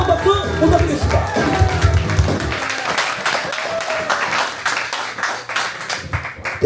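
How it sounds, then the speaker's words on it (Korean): Warm applause and some cheering from a crowd at the inauguration ceremony of a national dance club in Pohang, a dense burst of clapping rising over background music and chatter, then continuing as scattered, sharper claps near the end. "다시 한번 뜨거운 박수 부탁드리겠습니다"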